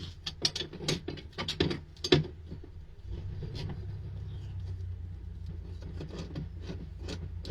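A socket wrench works a bolt on a trailer tongue jack, giving a run of sharp ratcheting clicks and metallic taps that settles into a steady low mechanical rumble, close and fairly quiet.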